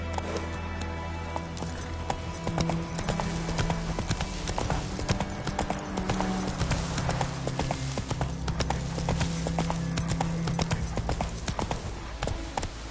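Geralt's horse Roach galloping in The Witcher 3 video game, rapid steady clip-clop hoofbeats close and continuous throughout, with low rumbling underneath.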